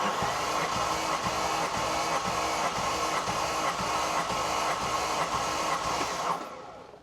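Engine of a 1995 Ferrari 456 cranking over during a compression test, a loud steady whirring drone with faint rhythmic pulsing that holds for about six seconds, then cuts off abruptly.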